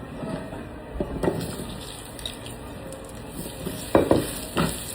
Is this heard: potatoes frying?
yes